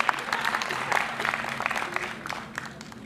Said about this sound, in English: First clap for yourselves.